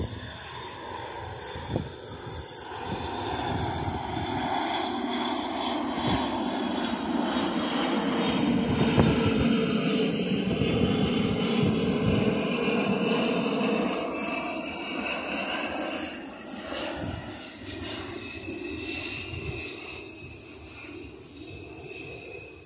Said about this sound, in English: Sorry about these airplanes too. They fly over here all the time.